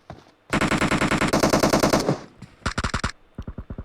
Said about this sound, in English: he tries to tap fire him